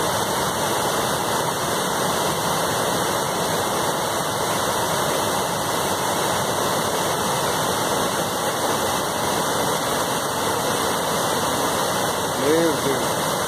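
A waterfall at a bathing spot in Presidente Castelo, Mato Grosso do Sul, roars in a constant, dense wash of noise, with people talking over it.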